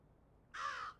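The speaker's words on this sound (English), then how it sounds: "Bird." A single crow caw rings out in the video game Little Kitty Big City, one short harsh call after a quiet moment.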